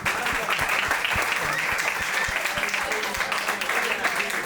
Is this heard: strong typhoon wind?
no